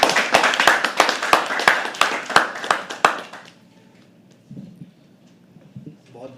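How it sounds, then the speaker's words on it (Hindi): Sharp, evenly spaced hand claps from an audience at a poetry and storytelling stage event ring out for about three seconds, then stop abruptly, leaving near-quiet room tone with a faint voice. "एक बार जोरदार तालियां उठाइए"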